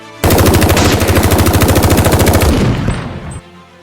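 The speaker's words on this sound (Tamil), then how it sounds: "வீரப்பன் கையில வச்சிருந்த A11 அப்படின்னு சொல்லக்கூடிய SLR ரக துப்பாக்கியிலிருந்து தோட்டா வந்து ஹரிகிருஷ்ணன் நோக்கி பாயுது" Sustained burst of rapid automatic gunfire from an Indian-made SLR rifle, Ishapore 1A1 type, loud and dense for about two and a half seconds before cutting off and tailing into echo.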